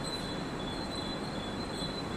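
Local train at Khar station in Mumbai before dawn, wheels squealing in a loud sustained metallic screech over a dense rumbling rail roar.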